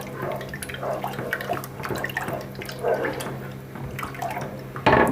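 Tap water runs steadily into a sink while hands are washed under it in a home kitchen, with soft splashing and a few small knocks, ending in a louder clatter.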